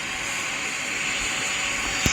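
A Boeing 787 airliner's engines roar during takeoff in Roblox PTFS, a steady, loud broadband jet rush that holds evenly throughout with no talking.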